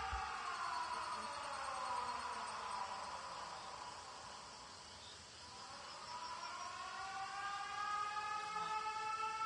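Air raid sirens in the video game 13 Sentinels Aegis Rim wail continuously, their pitch slowly falling then rising again, steady and distant-sounding over a faint background hiss.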